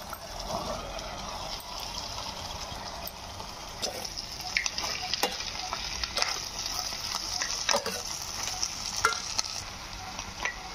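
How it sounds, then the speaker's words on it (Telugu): Boiled white chickpeas are stirred into an eggplant masala curry in a pan, a soft steady sizzle with intermittent spoon scrapes and clicks, fairly faint and close. "ఉడికిన శనగలు ఇప్పుడు కర్రీలో వేసుకుందాం"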